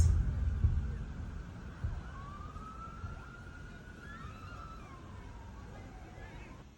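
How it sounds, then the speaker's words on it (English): An ambulance siren in a song rises and falls faintly in the background over a low murmur of crowd noise and a dull rumble. "The sound of like an ambulance in the background."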